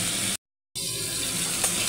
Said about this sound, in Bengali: আমার ফুলকপিগুলো ভালো করে ভাজা হয়ে যাচ্ছে একদম লাল লাল করে।